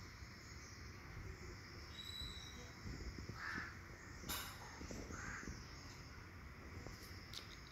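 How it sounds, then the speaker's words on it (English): Two crows caw outdoors on a rainy morning, a few harsh calls scattered through steady rain-like background noise at moderate distance. "Two crows are there, one for sorrow and two for"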